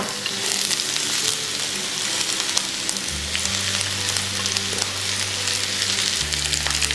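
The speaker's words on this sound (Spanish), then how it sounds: "Empezaremos poniendo al fuego una sartén y le añadimos un poco de aceite añadimos las verduras" Vegetables frying in a little oil in a pan over the heat, a loud continuous sizzle close up, with a low steady hum entering partway through and no speech.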